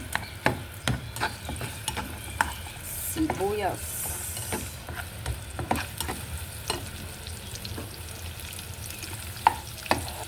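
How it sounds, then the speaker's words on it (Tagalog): Egg, onion and garlic sautéing in a pan: continuous soft sizzle beneath repeated scraping and tapping of a utensil against the pan at an uneven pace, no voices. "mag-isa tayo ng itlog, ng sibuyas, bawang"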